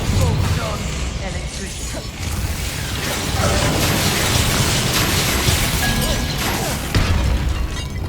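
Confringo fire-blast spells crash and burst repeatedly in the video game Hogwarts Legacy, dense and loud combat effects layered with clattering impacts and game music throughout.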